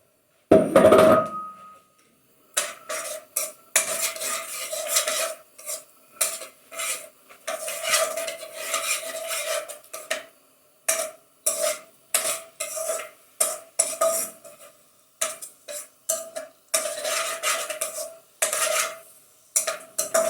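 Minced garlic frying in oil in a pan, stirred in repeated bursts of scraping and clinking utensil against metal over a low sizzle, with short quiet gaps between strokes.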